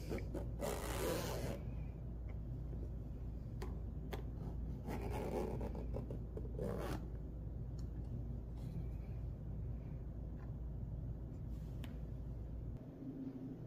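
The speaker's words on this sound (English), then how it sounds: "And I'm going to gently zip back up the case." A Game Traveler travel case for the Nintendo Switch is zipped shut in a few slow, close, rasping pulls over a steady low background rumble, then handling rustles follow.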